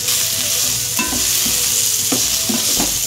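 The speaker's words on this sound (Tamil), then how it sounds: "இப்போது ரெண்டுத்தையும் நல்லா வதக்கிக்கலாம்." Chopped onions and carrots sautéing in a pan for puffed rice upma, with a steady close sizzle and a few scraping stirs of a spoon, no voices.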